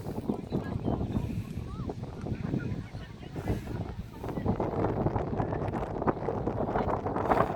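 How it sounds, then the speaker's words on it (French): Steady gusting wind buffets the microphone with a low, rumbling roar throughout, loud and continuous, with a voice faintly under it. "Pas mal de vent encore."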